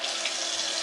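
A bathroom sink tap runs in a steady, close hiss of flowing water while a mouth is rinsed after a tooth came out, brief and continuous with no talk.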